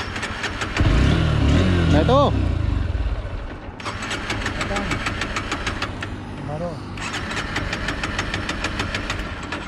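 A Honda Hornet 2.0 BS6 motorcycle with a fuel-injected engine cranks repeatedly without catching, with two long bursts of starter whirring separated by brief pauses and a short engine note in between, heard up close alongside someone talking.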